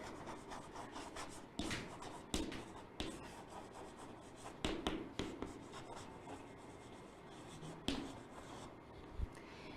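Chalk or marker scratching across a board in a classroom, a steady run of close rubbing strokes broken by sharper taps and pauses, with no talking.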